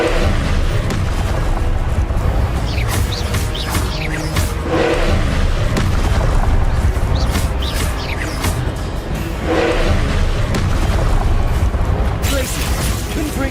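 Rapid spell effects cast in combat in the Hogwarts Legacy video game, a dense barrage of booming blasts, whooshes and crashes over constant low rumble, with a shouted voice mixed in.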